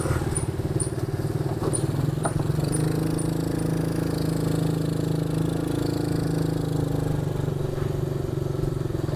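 Manual ATV Jeep engine droning loud and steady at high revs during a top-speed run, a constant buzzing motor with light clatter and brief faint clicks over it.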